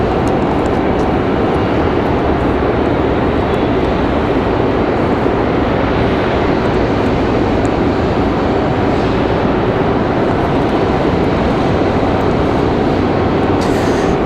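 Breeze Airways Airbus A220-300 on final approach at Raleigh-Durham airport, a constant loud broadband rumble of jet engines with no clear rise or fall throughout.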